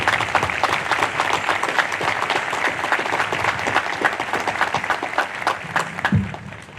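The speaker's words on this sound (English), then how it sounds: "let's take a moment and give the color guard a big round of applause" A large graduation audience applauds the color guard, dense sustained clapping filling the hall at steady loudness throughout.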